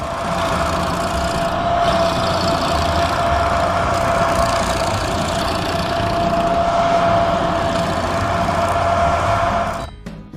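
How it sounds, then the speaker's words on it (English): A stump grinder chews through a large hardwood tree stump, its engine holding a loud, steady, heavy drone with a constant whine for about ten seconds before easing off at the end. "The grinding head rotates at extremely high speeds, crushing each layer of hardwood, handling the giant tree stump quickly and powerfully"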